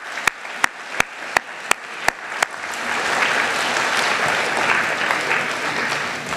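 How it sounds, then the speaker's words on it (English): A graduation audience of family and friends applauds a class of graduates in a large hall, starting with a few single sharp claps and swelling into a steady, dense wash of clapping from a big crowd. "hand clap for everyone"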